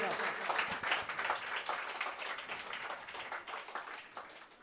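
A church congregation at a Sunday service claps loudly and continuously in praise, a dense, even wash of many hands that tapers slightly toward the end.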